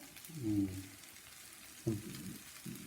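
Minced beef frying among browned onions in a pan, a soft, low sizzle with a couple of brief stirring scrapes, heard quietly and close.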